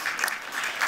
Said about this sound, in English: All right, you can applaud them.